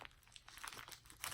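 Small plastic bags holding diamond painting drills crinkle and rustle softly in quick, irregular bursts close by, with no talking.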